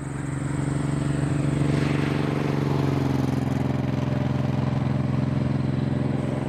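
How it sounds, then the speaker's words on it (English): A Suzuki Boulevard M90 motorcycle sits idling with a steady, droning exhaust note, moderately close and unbroken for several seconds, with no one speaking over it. "the sound, the exhaust note, what did you think?"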